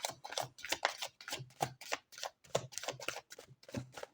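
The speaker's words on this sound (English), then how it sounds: "These are really hard to shuffle." Tarot cards being shuffled by hand, a close series of crisp riffling and slapping bursts in an uneven rhythm, fairly quiet, with no talk over them.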